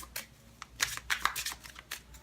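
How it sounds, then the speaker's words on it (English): Tarot cards being shuffled up close in quick crisp riffles and slaps, several short bursts in irregular rhythm against a quiet background. "Okay, shuffling."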